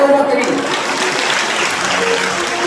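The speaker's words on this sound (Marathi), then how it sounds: "टाळ्या वाजवा तरी" Applause from an audience gathered for a Marathi Shri Ram Katha religious discourse, a steady, dense crowd clapping sustained at a constant level, with faint voices and music beneath it.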